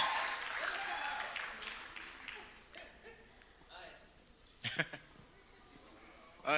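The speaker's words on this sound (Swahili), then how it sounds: "Tupige makofi tena as they come up here" An audience at a church conference claps, a broad wash of applause that fades away, followed by a few scattered sharper claps and a speaking voice.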